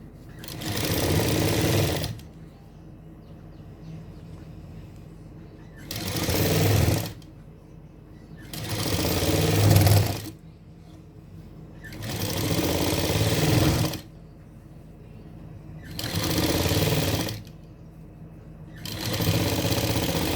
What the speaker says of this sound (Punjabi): ਤੇ ਇਹ ਤੇ ਮੈਂ ਡਬਲ ਸਿਲਾਈ ਲਗਾ ਰਹੀ ਹਾਂ